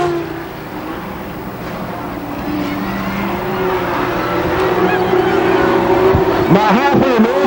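Race cars at Kil Kare Speedway roaring past during a 20-lap Memorial Day championship race, a loud sustained engine drone with rising and falling pitches as cars pass, under a track announcer's commentary.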